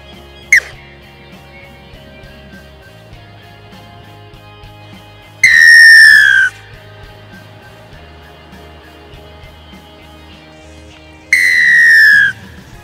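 A rugby league referee blows a whistle: one short blast, then two longer, sharp, shrill blasts several seconds apart, each about a second long, loud and close with no talk.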